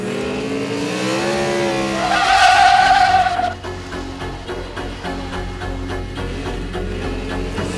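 A Ford F-150 pickup truck on a drag strip roars as it accelerates hard, its engine pitch climbing through a gear before dropping as it pulls away, loud at first then fading to a steady distant drone.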